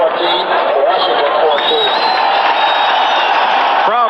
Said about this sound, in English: Crowd responding to the score announced on the public address that the Redskins have tied the Bills at 14